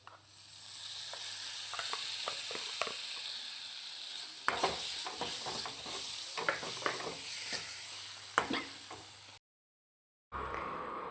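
Finely chopped tomatoes with pepper powder sizzle and hiss in a pan, with a low steady hum and a series of sharp scraping stirs. The sound cuts out briefly near the end, then resumes.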